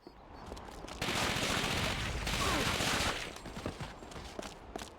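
Sustained burst of gunfire in the World War II shooter Call of Duty: Finest Hour, a dense fusillade of rapid shots lasting a couple of seconds before thinning into scattered pops and background battle noise.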